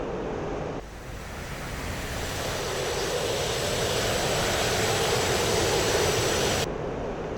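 A JF-17 Thunder jet roars with its afterburner lit in a flight simulator game, a loud, steady, broad rushing roar that holds at full strength throughout with no voices.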